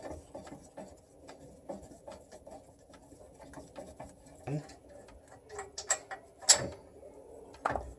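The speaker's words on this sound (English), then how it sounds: "take the 2 mounting bolts off, and the caliper is going to come off" Bolts coming out of a brake caliper mount on a 900-horsepower Toyota Supra, heard as light metallic ticks and ratcheting clicks, with a few sharper clanks near the end as the caliper comes free.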